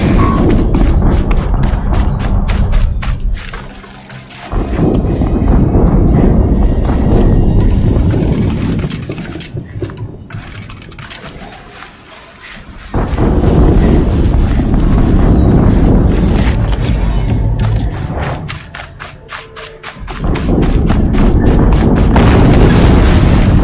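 Heavy explosions in the Horizon Zero Dawn video game, loud booming blasts that swell and roll off in long rumbling waves, several in succession with windy roar between them.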